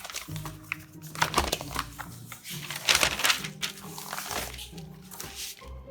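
Close, busy crinkling and crunching of newspaper being crumpled by hand, irregular and continuous, loud bursts rising and falling throughout.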